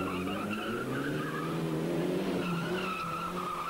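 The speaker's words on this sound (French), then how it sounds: "La Galant VR4 vole de virage en virage" A Mitsubishi Galant VR4 rally car corners hard at the 1990 Circuit des Ardennes, its engine droning steadily with a continuous tire squeal and skidding tone running throughout, loud and close.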